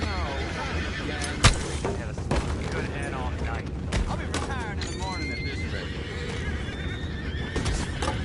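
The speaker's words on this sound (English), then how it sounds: "You mind the horses?" Horses whinny and neigh amid clip-clopping hooves in the Red Dead Redemption 2 video game, with a sharp gunshot-like crack, scattered bangs and voices talking over the busy mix.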